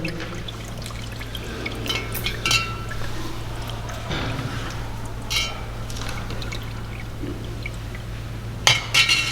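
Water poured from a spoon as a ritual offering during Maha Shivratri worship, a soft trickle with light clinks of metal and glass, close by and without talk.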